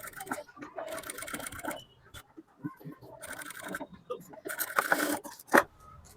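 Sewing machine stitching pleats into fabric for a ruffle, running in several short close bursts of rapid stitching separated by pauses and small handling scrapes, no talking.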